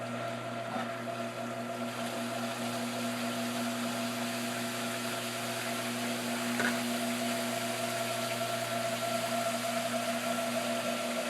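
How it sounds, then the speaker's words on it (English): Water pump running during a Cetus sieve flow test, a steady mechanical hum with a constant tonal drone and rushing water, continuous and fairly close. "What we're going to do is fire up the pump."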